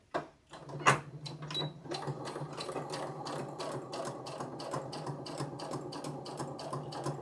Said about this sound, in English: I'm just going to sew down that 1/4 inch mark on each side.